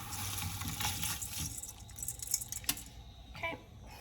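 Rice pouring into a pressure cooker while beef stew is being made, a soft close rattling hiss of grains sliding in for a few seconds before tapering off.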